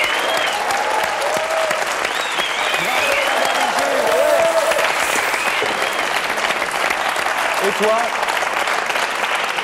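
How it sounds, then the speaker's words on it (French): A French TV game show studio audience claps steadily and loudly for nearly ten seconds, with a presenter's voice speaking over the dense applause. "Bravo! On l'applaudit!"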